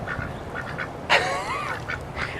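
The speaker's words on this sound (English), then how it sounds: "You're ducks." Ducks sheltering under a bench from the rain, several soft quacks repeating close by, then one louder, drawn-out call that stands out above faint background patter.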